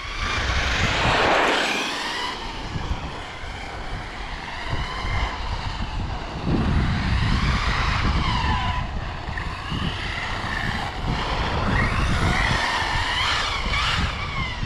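An RC off-road car with aging foam tires runs laps on a freshly laid circuit, its tires skidding and scrubbing in a continuous loud hiss and whine that swells and fades as it passes.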